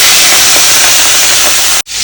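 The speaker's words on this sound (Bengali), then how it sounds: "তাই চিংড়ি মাছটা ভেজে নিচ্ছি।" Shrimp frying in hot oil for a Bengali home-cooked dish with taro greens, a loud, dense, steady sizzle close up that cuts off abruptly near the end.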